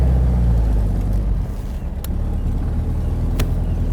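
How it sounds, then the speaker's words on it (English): A 1957 Porsche Speedster's four-cylinder engine runs close up with a loud, even rumble, its level dipping and swelling briefly as the throttle is snapped. "Listen to this engine. It's just purring on all 4 cylinders."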